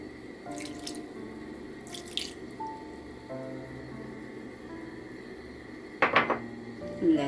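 Soy sauce is poured for Filipino pork and chicken adobo in a home kitchen, with faint liquid splashes and drips and a few clinks of utensils and dishes against low background noise.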